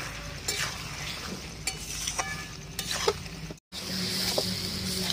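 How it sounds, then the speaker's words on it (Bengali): Fried pointed gourd stirred into spice paste in a pan: a continuous sizzle broken by repeated scraping spoon strokes, with a brief cut to silence partway through. "এবার ভেজে রাখা পটলগুলো দিয়ে দেবো। আর কিছু সময় কষিয়ে নেব।"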